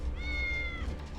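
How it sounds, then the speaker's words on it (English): A cat meows once in the video game Warhammer: Chaosbane, a single drawn-out, clear meow over a low, steady game background rumble. "I'm sure that's a cat meowing"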